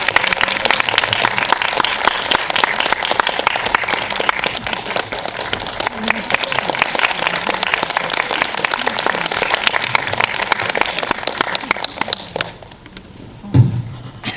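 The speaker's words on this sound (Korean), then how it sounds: "큰 박수로 환영해 주시면 제가 모셔보도록 하겠습니다" Lively audience applause welcoming a guest at a film screening talk event, continuous and crackling for about twelve seconds before fading, followed by a brief thump.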